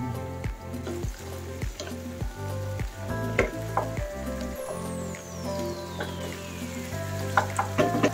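Chicken breast hits a hot pan with mixed vegetables and shrimp, sizzling and frying close up while a spoon scrapes and stirs in irregular clanks and taps.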